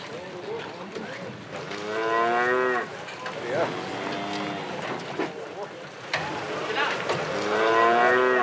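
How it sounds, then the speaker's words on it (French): Cows from across the region mooing at a large agricultural show in Aubrac, several long, loud lowing calls close by over a busy background of crowd murmur and activity. "les vaches venues de toute la région sont exposées pour le grand concours agricole"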